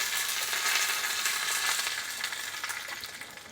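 Curry leaves fry in hot tempering oil with urad dal and spluttered mustard seeds for a peanut chutney, giving a close, steady hissing sizzle that fades slightly toward the end, with no voices.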